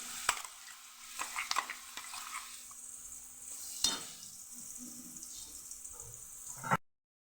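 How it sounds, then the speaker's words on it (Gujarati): Hot oil sizzles steadily as garlic paste with asafoetida is sautéed, a utensil stirring and scraping the pan, with a few sharp clinks early on and a louder scrape near the end. "આપણે લસણવાળી પેસ્ટ તૈયાર કરેલી સાતળી લઈશું"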